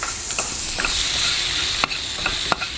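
Potatoes fry in masala in a pan, a continuous close sizzle broken by a few sharp scrapes and taps of a spoon stirring.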